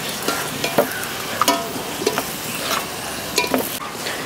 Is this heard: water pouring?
no